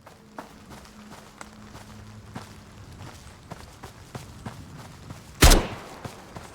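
A single sharp, loud AK rifle shot rings out near the end in the Road to Vostok video game, breaking through quiet footsteps and movement.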